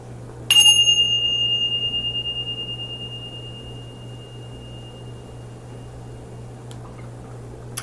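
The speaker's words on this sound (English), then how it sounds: "Let's ring the bell and clear out this energy for you" A single bell is struck once to clear energy, leaving a bright ringing tone that decays slowly over several seconds above a steady low hum, with a faint tap near the end.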